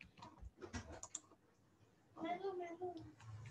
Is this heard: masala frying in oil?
no